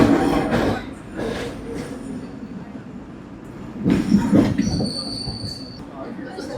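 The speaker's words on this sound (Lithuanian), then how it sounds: "Jums dar neatsibodo tramvajų rodymas? Ta proga dar vienas." A Hong Kong double-decker tram running on its rails, rumbling past close by with bursts of rolling noise and a high wheel squeal near the end.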